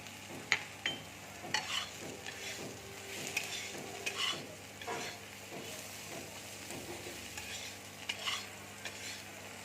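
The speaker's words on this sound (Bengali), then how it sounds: "ভালো করে ভেজে নেব আমি। এবার আমি পোস্তটা দিয়ে দিচ্ছি" Poppy seeds fry in a pan, giving a soft, steady sizzle broken by repeated scraping strokes of a spoon stirring them, fairly quiet and close with no talking.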